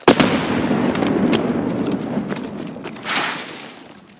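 Grenade blast in Escape From Tarkov, a sharp burst followed by a long rumbling decay, with a second softer swell a few seconds later, loud and close.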